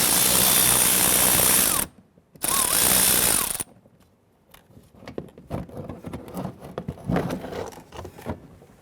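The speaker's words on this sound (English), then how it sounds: "Using a 10mm socket, go ahead and remove the 2 bolts here holding the front splash shield on." Ratchet fitted with a 10mm socket backing out front splash shield bolts on a 2012-2017 Toyota Camry, heard as two loud buzzing bursts of rapid clicking, then quieter scattered clicks, taps and handling noises close by.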